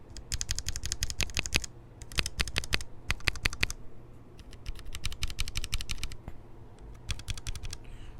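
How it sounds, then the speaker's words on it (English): Clicky typing on a mechanical keyboard with blue switches, close and crisp, in quick bursts of keystrokes separated by short pauses, with no talking. "But these blue switches, though, sound very good."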